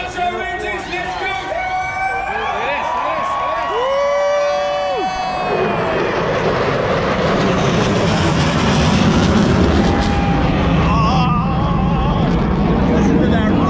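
Loud roar of race engines at the Daytona 500 speedway, swelling and sustained over crowd noise, with a high whistling tone and cheering mixed in.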